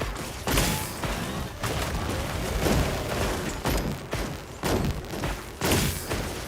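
Repeated heavy shots from a ranged weapon during a Monster Hunter hunt, booming at irregular intervals about once a second over continuous battle noise.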